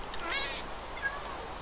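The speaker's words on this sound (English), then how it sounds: "oh dear, that cat spawned on top" Two short game-cat meows from a Minecraft Direwolf20 modpack, the first clearer at about half a second and a fainter one near the end, over a steady background hiss.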